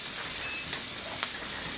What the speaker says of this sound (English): cooking my steak